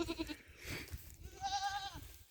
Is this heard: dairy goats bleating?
yes